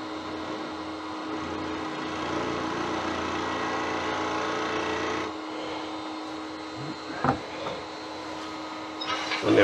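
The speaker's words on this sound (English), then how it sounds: "Give myself a starting point for the drill." A drill bores a starting hole in a wood blank for a wine bottle stopper, a steady whirring motor drone that drops lower partway through, followed by a few knocks and handling sounds.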